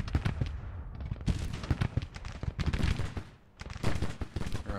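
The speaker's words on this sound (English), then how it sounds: "Now we're hearing that Williams gun's firing." Rapid, sustained volleys of a Williams gun firing in the Civil War strategy game Grand Tactician, dense bursts of gunfire with a short lull before the shooting resumes, loud and close.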